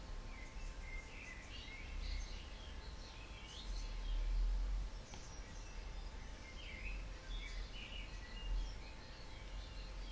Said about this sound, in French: Prends le temps d'entendre le chant des oiseaux.